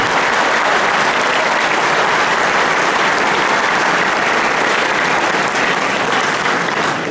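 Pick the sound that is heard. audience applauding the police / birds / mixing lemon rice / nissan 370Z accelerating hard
audience applauding the police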